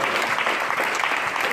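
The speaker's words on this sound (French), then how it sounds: "Applaudissements" Sustained burst of audience applause at a freestyle football show, many hands clapping at once, loud and continuous with no pauses.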